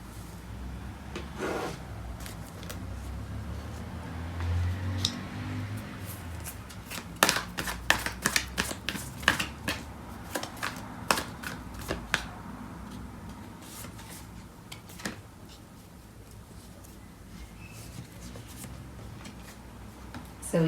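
Tarot cards being shuffled close by, a run of rapid, crisp riffling flicks and slaps in bursts through the middle, with softer rubbing and handling before and after and a quiet voice speaking at times.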